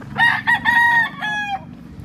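A gamefowl rooster at an auction market gives a short, close crow in several bursts over a low background murmur.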